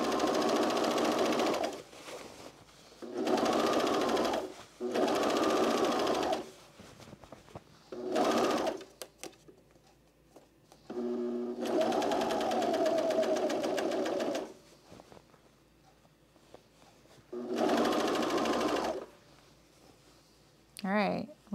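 A sewing machine runs in repeated bursts of a few seconds each while stitching a 5/8 seam on pants, its motor whirring loudly up close between pauses where a person talks.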